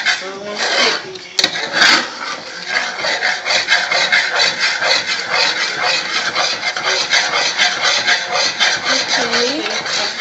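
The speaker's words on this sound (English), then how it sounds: "I'm gonna keep stirring it so it won't stick." Pecan candy mixture stirred in a pot with a spoon, a steady scraping and rubbing rasp that continues throughout while a person talks over it.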